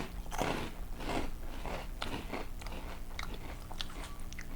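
Several people bite and chew crunchy Korean snack sticks, fry-like and lightly salted with a garlic or onion flavour, producing repeated close crisp crunches in an irregular rhythm with no talk.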